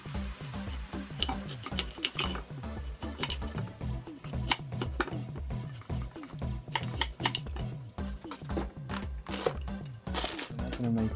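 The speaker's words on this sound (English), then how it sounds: "I think I'm going to have to use the knife." A kitchen knife slicing a raw celeriac root into chip-shaped sticks on a board, a steady run of close, crisp cuts and taps repeating throughout.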